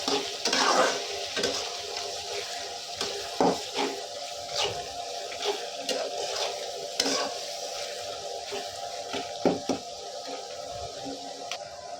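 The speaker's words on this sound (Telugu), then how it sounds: "నిమ్మరసం వేసుకొని బాగా కలుపుకోవాలి" Lemon rice gets stirred in a pan after lemon juice goes in, a spoon scraping and clinking irregularly through a soft ongoing sizzle, close and without voices.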